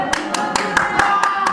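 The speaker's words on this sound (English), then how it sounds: "And Yoni's clapping that." Hands clap in quick, regular succession at a wrestling show, about eight sharp claps spaced evenly and heard up close against a low murmur of background noise.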